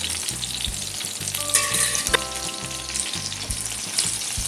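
Chicken pieces fry in oil in an uncovered pan over medium heat, giving a loud, continuous sizzle with a rhythmic scraping of a spatula stirring the pieces.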